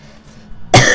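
A single sharp, loud cough bursts out near the end after quiet room tone, close to the microphone, during a playthrough of Dodongo's Cavern in Zelda: Ocarina of Time.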